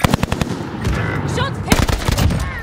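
Loud automatic gunfire in the video game Call of Duty: Warzone Pacific, rapid bursts of close shots with a short pause partway through, mixed with game voice chatter.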